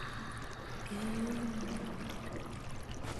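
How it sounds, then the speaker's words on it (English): In the game Conan Exiles, water rushes steadily into a stone room, a continuous pouring, gushing stream that stays even and fairly faint throughout, with no voices. "Now again, the water in this room is already rising."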